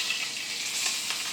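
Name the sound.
steak sizzling in a pan as it is flipped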